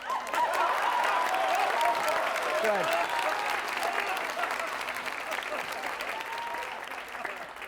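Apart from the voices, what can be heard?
audience applause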